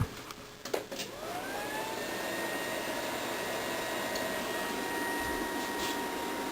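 A work desktop computer powers on after a couple of clicks, its fan spinning up into a steady, moderately quiet whir that holds evenly to the end.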